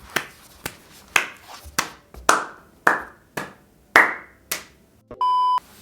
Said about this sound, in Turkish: yazarı hem de çevirmeni ayakta alkışlıyorum